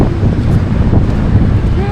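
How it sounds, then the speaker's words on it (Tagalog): Strong wind in BGC, Taguig, near Uptown Mall, buffets the microphone with a loud, constant roaring rumble throughout, no breaks in the gusting. "Grabe, ang lakas ng hangin."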